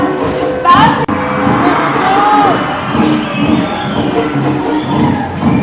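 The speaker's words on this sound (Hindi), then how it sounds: "जोरदार तालियां" At a festival opening ceremony where folk artists dance on stage, a large crowd cheers loudly with whoops and shouts, a sustained roar mixed with voices.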